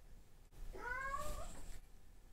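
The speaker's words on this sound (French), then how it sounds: "Le chat. Mais il est fou." A cat gives a single drawn-out meow, rising and then falling, clear and fairly close against a quiet indoor background with no talking.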